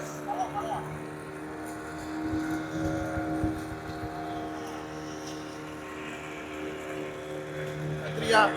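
A fishing boat engine drones steadily nearby with a low, constant hum, under brief bursts of background voices.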